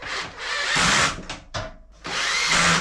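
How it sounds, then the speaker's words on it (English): A drill driver on low torque drives screws while replacing an integrated washing machine door seal, whirring in several bursts of varying length, with brief pauses and a rough, grinding edge, close up. "if you're using a drill driver, just get it on a low torque"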